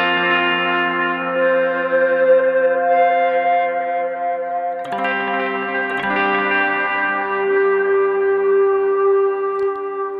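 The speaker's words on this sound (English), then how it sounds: "I have a little bit of delay and a little bit of reverb going on right now." Electric guitar run through a Digitech FreqOut feedback pedal with delay and reverb, on an ambient pedalboard. Sustained, layered held notes ring on with echoing repeats, a fresh note swelling in near the midpoint, loud and steady with no talking.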